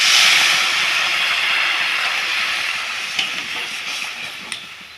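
Water goes into a hot pan of fried chalta (elephant apple) and kochurmukhi (taro), bursting into a loud, broad hiss of sizzling steam that slowly fades, with a few small crackles near the end.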